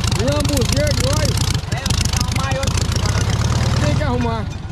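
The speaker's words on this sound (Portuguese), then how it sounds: "Ô, Bineiro, tá vazando óleo pra caramba nesse motor aí" A car engine with an oil leak idles in a steady low rumble, nearly buried under loud, continuous conversation between men close by.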